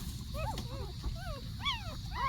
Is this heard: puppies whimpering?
yes